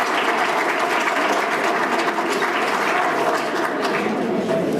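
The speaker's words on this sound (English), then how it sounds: "let's give them a round of applause for being here the longest" Loud, sustained audience applause at a Founders Day event at a country club in Trophy Club, Texas, dense clapping from a large crowd that stays even for the whole stretch.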